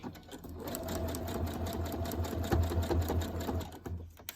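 A sewing machine stitches steadily along the edge of a piece of fabric, giving a continuous, fairly loud mechanical whir with a rapid needle rhythm that runs unbroken for the whole stretch, with no talking.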